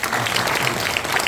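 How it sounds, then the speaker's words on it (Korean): Applause for Buddhist monks from a gathered audience at a memorial tea rite at a temple site in Gangneung, a dense continuous burst of clapping throughout. "스님들께 박수 한번"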